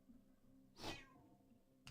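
A house cat meows once, faint and a little distant in a quiet indoor room, followed by a brief soft sound near the end.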